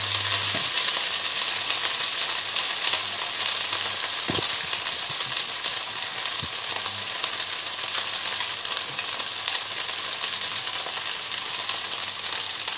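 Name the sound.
spätzle frying in a pan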